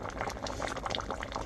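Pork mung bean soup with squash and banana blossom bubbles in a pot, a dense, steady close-up boiling burble with no talking.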